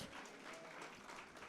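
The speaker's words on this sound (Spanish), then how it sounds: "démosle un aplauso de alabanza al Señor en esta mañana" A church congregation claps in praise during a Sunday service, a full, even burst of applause filling the room, faint overall and without talk.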